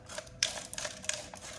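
Scissors cutting a plastic bottle into a spiral, faint irregular snips and crinkly plastic clicks close by, in a quiet room.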